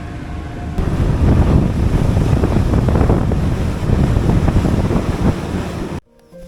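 Wind and sea wash roar loudly and steadily aboard a ferry at sea off Scandinavia, a dense continuous rush that cuts out abruptly near the end.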